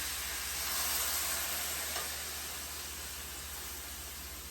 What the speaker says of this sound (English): We're starting to get our bits at the bottom of the pan. So we're going to go ahead and deglaze